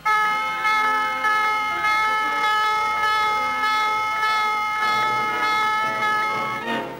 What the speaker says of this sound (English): the calm of the day is broken as general quarters sound.